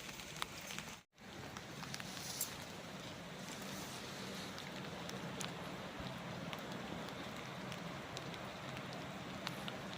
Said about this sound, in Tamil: சரியான மழை, பட்டன்னு அடிச்சுது.